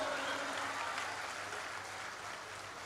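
Audience at a Hindi comic poetry gathering (hasya kavi sammelan) applauding: a thick, continuous patter of many hands clapping, loud at first and easing slightly toward the end.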